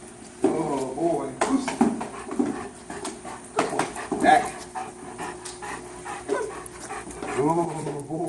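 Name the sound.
dog panting and whimpering during training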